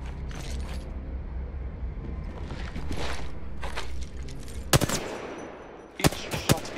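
Gunfire in the Apex Legends video game as targets are shot, with a steady background rumble and a few sharp, loud shots near the end.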